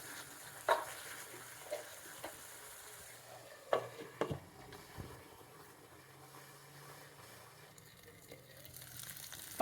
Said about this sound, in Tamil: இதை ஸ்லோ ஃப்ளேமில் கொஞ்சம் குக் பண்ணுங்க.